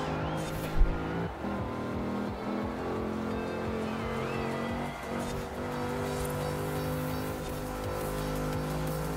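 Range Rover blasting through Scottish streets in a road racing series in Forza Horizon 4, a steady loud engine drone with shifting revs and a brief thump early on, continuous throughout without speech.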